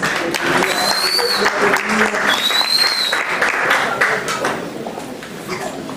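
A church congregation bursts into sustained applause, a dense wash of clapping hands that fills the room and carries on with little change before slowly thinning toward the end.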